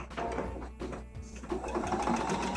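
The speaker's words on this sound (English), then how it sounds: "I sewed that first seam, and then I'm going to sew the next one" A sewing machine stitching a seam across a quilt panel of pieced squares, its needle running in a fast steady mechanical chatter with brief pauses, close and fairly loud.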